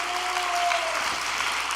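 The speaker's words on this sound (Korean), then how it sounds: "우리 세 분을 위해서 박수 한 번만 보내주시기 바랍니다." A church congregation in Taichung, Taiwan gives a short, steady round of applause, dense and even for under two seconds, with a faint tone fading early on.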